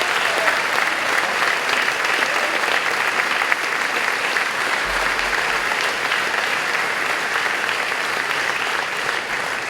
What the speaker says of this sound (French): je pense qu'on peut encore une fois les applaudir bien fort pour tout le travail qu'ils font